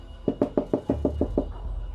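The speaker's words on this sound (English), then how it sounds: "there was a knock at the back door." Eight quick, evenly spaced knocks on a back door, firm and close, sound in a steady run before trailing off into quiet room tone.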